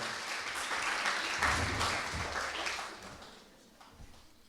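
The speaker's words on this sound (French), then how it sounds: "Donc je vous remercie d'applaudir Bruno Martin." A conference audience claps steadily for a few seconds, the applause dense and even before it thins out and fades away.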